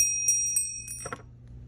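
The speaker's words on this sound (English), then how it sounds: "Whenever you hear the bell ring" Small bell rung in a classroom lesson, several bright metallic dings in a quick sequence, close and clear, followed by a short burst of shaking jingles before fading into quiet room tone.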